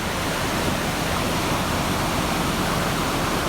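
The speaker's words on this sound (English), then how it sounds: "The water's still wild. I mean, it's roaring up there." Floodwater roars in a dense, unbroken wash of noise, loud and steady throughout, like a torrent pouring nearby.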